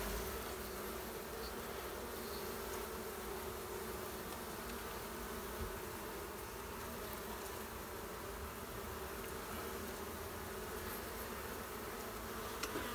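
Honey bees swarm around an opened hive, a dense continuous drone of many wings holding steady throughout, close and fairly loud, with no talking.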